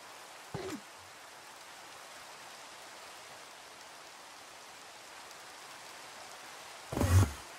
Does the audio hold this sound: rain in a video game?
yes